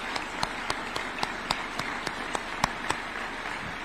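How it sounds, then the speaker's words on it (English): A State House award ceremony in Nairobi, where sharp, regularly spaced hand claps ring out in a steady rhythm over a faint hiss, like one or a few people clapping near the microphone. "Can we clap for Rose, please, if she's there?"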